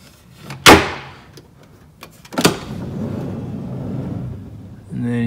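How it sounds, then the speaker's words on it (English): A fold-down table inside an Econoline campervan is shut with two sharp knocking thuds about two seconds apart, then a low steady rumble and a brief voice at the end. "Let me close this table."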